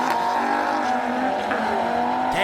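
An Aussie Ute and an Audi RS3 race off the line in a drag race, engines roaring loud and close with a rising pitch as they accelerate, a sharp burst of noise near the end.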